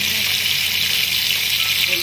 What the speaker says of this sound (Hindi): ये हमने पैन चढ़ा लिया, उसमें तेल गर्म हो चुका है और फ्राई करने के लिए